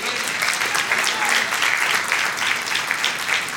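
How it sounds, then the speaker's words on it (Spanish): A church congregation bursts into applause, a dense, lively roll of many hands clapping with slight swells in intensity, filling the room steadily for the whole stretch. "Dale un aplauso al que vive."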